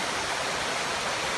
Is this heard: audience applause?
no